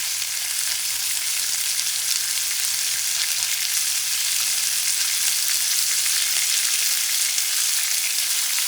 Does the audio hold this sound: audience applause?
no